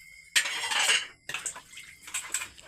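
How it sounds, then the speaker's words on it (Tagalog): Dishes are washed by hand: a burst of running water, then scattered clinks and clatters of plates and utensils with splashes and drips, close by and with nobody speaking. "Hugas siya ng pinggan"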